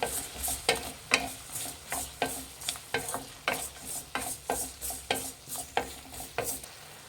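A spoon stirs a salted dal mixture in a pan for mini idli with sambar. Steady, rhythmic scraping strokes sound close over a faint sizzle, with no talking.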